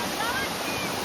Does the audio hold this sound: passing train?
no